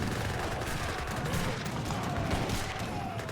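Continuous dense gunfire and volleys from Gatling guns and flaming arrows in a strategy video game battle, a steady loud wash of shots with no clear pauses.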